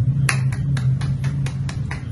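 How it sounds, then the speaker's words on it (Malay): Classroom applause, a handful of sharp, evenly spaced claps roughly every quarter second over a constant low hum, sounding close and fairly loud. "Jadi beri tepukan kepada semua."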